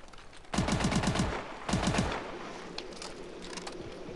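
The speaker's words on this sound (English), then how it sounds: "This gun is so freaking loud." Loud gun firing in Call of Duty Advanced Warfare team deathmatch, two quick rapid-fire bursts of sharp close shots about a second apart, followed by fainter game ambience.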